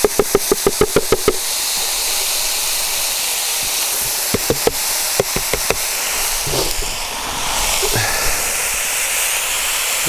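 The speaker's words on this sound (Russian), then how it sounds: "добавляем гречку." Soaked buckwheat goes into a hot cauldron over a grill, making a steady loud sizzling hiss with a run of sharp clicks and knocks at the start and scattered taps later.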